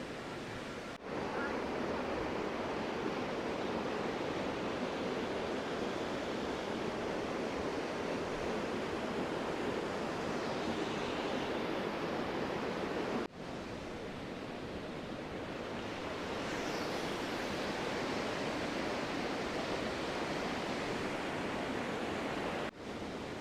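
Kanthanpara waterfall roars as a steady, loud broadband rush of falling water close by, continuous for the whole stretch with only brief dips, and no voices standing out over it.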